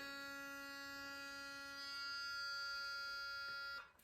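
A vibrating electric toothbrush gives a steady, close, tonal electric buzz with a bright whine that holds for several seconds, then cuts off abruptly near the end.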